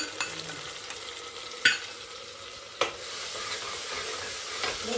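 Ginger garlic paste frying in a pan for a biryani, a steady close sizzle with two sharp clinks of a spoon against the pan.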